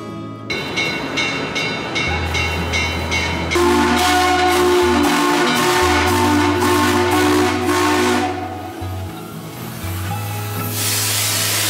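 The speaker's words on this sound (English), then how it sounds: "we all embarked on our first train ride." A Western Maryland Scenic Railroad steam train sounds its whistle in loud, sustained harmonic blasts over rhythmic chuffing and hissing steam, close by, with no speech.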